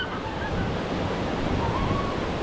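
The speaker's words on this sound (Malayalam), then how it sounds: "കുത്തി ഒഴുകണ വെള്ളത്തിൽ നല്ല പാറയുടെ ഇടി കൂടി" At a river rafting site in Thailand, fast water rushes over rocks in a steady, loud, close roar with wind-like noise and no clear pauses.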